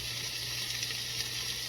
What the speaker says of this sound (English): Got a nice sizzle going.